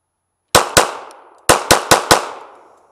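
Six sharp gunshots from a Glock 42 pistol fired outdoors at a target about 10 meters away: two quick reports, a pause, then four more in a steady rhythm, each loud and close with a short ringing decay.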